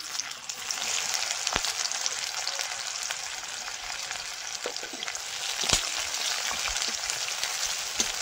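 Chopped onions fry in oil, a steady close sizzle with soft stirring and occasional pops, continuous and fairly quiet with no talk over it.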